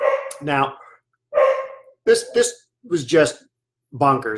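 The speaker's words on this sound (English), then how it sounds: "I'm sorry the dog's barking" A dog barks in short yappy bursts several times, mixed in with and partly under someone talking close by indoors.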